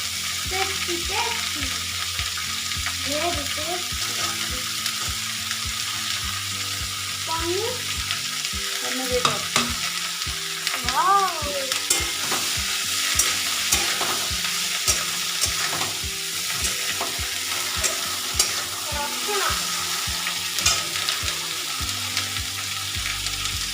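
Onion frying in a pan while being stirred, a continuous sizzle with scraping spoon strokes and occasional clinks, close and steady, with no talking over it.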